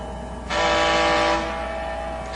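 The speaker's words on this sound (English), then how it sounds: "He blasted his emergency whistle." An animated tugboat sounds its emergency whistle in a single long, loud, steady horn-like blast after a brief quieter lead-in, with no other sounds over it.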